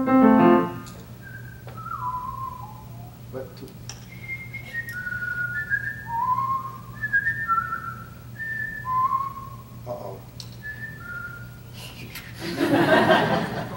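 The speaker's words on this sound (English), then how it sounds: "I just whistled it to let folks know I'm passing by" Someone whistles a short, elaborate folk tune solo, a run of clear, sliding notes over a low steady hum, with a brief chuckle at the start and rustling noise at the end.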